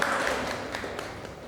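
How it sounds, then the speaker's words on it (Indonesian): Brief, steady applause from a class group cheering the best student teams in a pharmacy course session, dense clapping throughout. "Kasih tepuk tangan."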